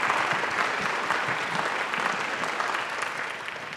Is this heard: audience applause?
yes